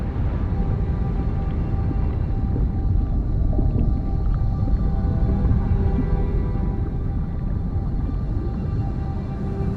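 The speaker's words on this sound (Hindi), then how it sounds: "ब्लू व्हेल दुनिया का सबसे बड़ा जीव है।" A blue whale's deep, drawn-out underwater calls rumble low and steady for about ten seconds, with no talking over them.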